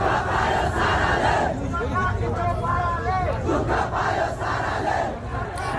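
Protest crowd in Nepal shouting and chanting as tear gas is fired to disperse it, a loud continuous roar of many voices with rising cries and yells throughout.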